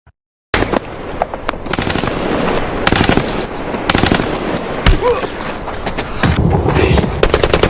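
Automatic gunfire in a Jack Reacher film fight scene: loud, dense rapid bursts after a brief silence, continuing steadily with sharp individual cracks and clattering debris, close and forceful.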